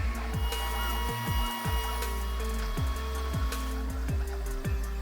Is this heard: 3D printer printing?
yes